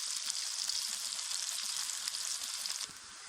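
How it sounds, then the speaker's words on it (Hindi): Onions frying in a pan while being lightly browned for a peas and potato curry: a steady close hiss and crackle of sizzling oil, continuous with faint stirring scrapes, easing slightly at the end. "प्याज को हल्के से ब्राउन कर लेंगे।"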